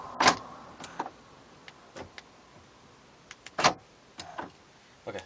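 A Honda Odyssey power sliding door with a door problem runs open, giving two loud mechanical clunks separated by a quiet motor whir and scattered clicks of the latch and locking mechanism, heard close up.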